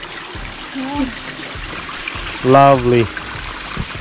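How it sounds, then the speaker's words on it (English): A small creek trickles and streams through a Vancouver Island forest in a steady wash, with a person speaking briefly over it partway through. "Going through the small creeks."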